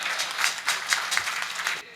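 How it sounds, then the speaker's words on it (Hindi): Audience applause at a Hindi comic poetry event, a dense steady burst of clapping for about two seconds that fades out at the end. "अरे बजानी तो जोरदार तालियां बजाओ यार।"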